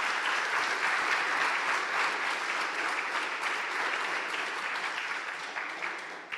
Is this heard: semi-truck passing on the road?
no